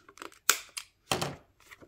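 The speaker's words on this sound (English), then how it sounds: "Stick into the paper punch." A handheld paper punch snaps through paper during scrapbook layout work, several short crisp clunks and rustles close by, with one sharp loud punch in the middle and another burst soon after.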